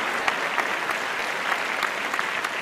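Audience applause at a comedy show in a bar, a brief burst of steady clapping from a small crowd, moderately loud and even with a few sharper individual claps.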